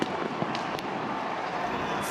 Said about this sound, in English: Fireworks at PNC Park.